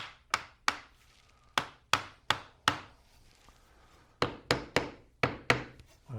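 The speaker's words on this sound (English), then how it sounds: "So I'll just take a hammer and tap on the end of it." A hammer taps the end of a wooden part of a homemade one-string guitar set in a jig, about thirteen sharp, close knocks in uneven clusters with short pauses between them and no talk.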